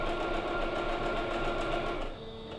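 A home sewing machine stitches a buttonhole with a buttonhole foot over cording yarn, giving a close, steady, rapid whirring hum that runs continuously and then drops quieter near the end as the stitching finishes.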